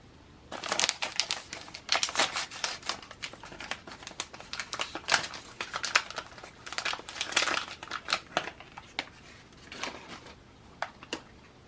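Foil packaging of a Mini Brands sneaker toy capsule crinkling as it is opened: dense, close crackling and rustling in irregular bursts throughout, with a few sharper isolated crinkles near the end, no talk.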